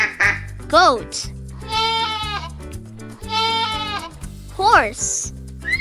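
A goat gives two drawn-out, quavering bleats, loud and close, over upbeat background music, with short vocal snippets between them.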